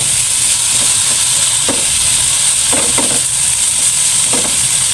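Food being stirred and mixed in a hot pan with black pepper and seasoning while cooking breakfast, a constant loud sizzle with a few scraping stirs of the spoon.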